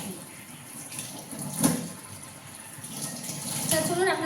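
Water runs from a tap, steadily filling a container for washing in a home kitchen, with a soft continuous gush and a few clinks and knocks of handling nearby.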